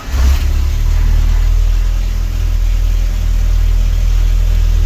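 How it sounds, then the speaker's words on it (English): A 1975 Toyota SR5 pickup with a 20R four-cylinder cold-starts with a loud burst of cranking, then settles into a steady, close rumbling idle with no talk over it. "temp is cold, and it does fire up, but it's better if you pump the gas at least once"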